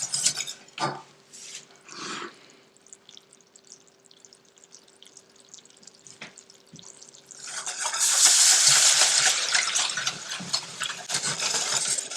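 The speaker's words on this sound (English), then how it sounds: "now we're going to start adding our milk" Milk pours into a hot roux for Swiss and Gruyere mac and cheese, starting with faint stirring and drips, then swelling into a steady loud sizzling hiss partway through that continues to the end.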